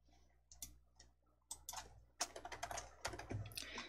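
Computer keyboard typing in a word processor, close and moderately loud, with scattered keystrokes at first building into a denser, quicker run of clicks.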